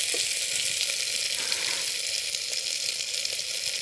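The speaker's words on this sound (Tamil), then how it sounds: "எல்லாம் நல்லா வதங்கட்டும் எண்ணெயிலே" Dried red chillies, broken by hand, sizzle in hot oil for a rasam made with balloon vine, a steady close frying hiss throughout with no talk.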